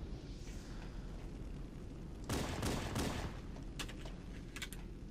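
Gunfire in Halo: a loud rattling burst of shots lasts close to a second, then a few shorter, sharper volleys follow over a steady low rumble of battle ambience.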